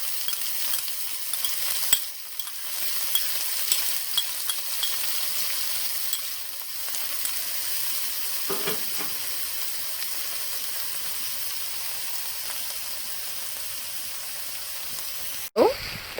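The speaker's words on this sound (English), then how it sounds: "We're going to stir this around for a little bit before adding in our peas" Spring onions and cilantro frying in a pot, a steady close hiss of sizzling with a few faint stirring scrapes and a sharper knock near the end.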